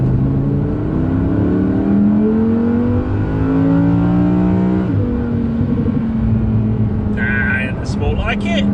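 An Audi R8 RWD's engine revs on an open road, its note climbing steadily through rising gear pulls, loud and close, with a shift around the middle and a person talking over it.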